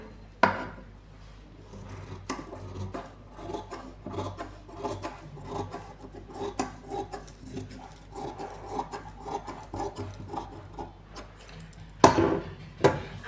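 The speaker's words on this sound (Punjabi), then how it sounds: "ਦੇਖੋ ਹੁਣ ਆਪਾਂ ਕੱਟ ਲਾਂਗੇ" Doubled cloth is cut with scissors for a garment neckline, producing a steady run of close, soft snipping and rasping strokes with a couple of louder clacks near the end; no talking.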